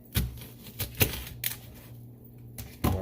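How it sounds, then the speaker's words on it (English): A sharp kitchen knife cuts once down the middle of a serrano chile for chile rellenos, heard as a few close, crisp clicks and taps against a cutting board with quiet pauses between. "Then I'm going to just cut it one time down the middle."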